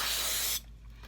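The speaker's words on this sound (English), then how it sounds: "I picked up a bottle of a dust remover" Canned air dust remover blasts onto wet acrylic pour paint in one loud, close hissing spray lasting about half a second before it cuts off sharply.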